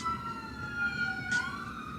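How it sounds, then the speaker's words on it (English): Emergency vehicle sirens wail outside in a city downtown near an urgent care, a steady rising and falling tone heard at moderate distance through a room. "Sirens are also another, another sound y'all hear a lot on my streams."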